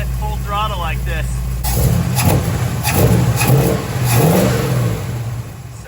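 Big-block V8 in a 1973 Dodge Challenger with a Chrysler Holley throttle adapter, idling roughly and then revving in a few throttle blips, heard close and loud with a voice talking over it.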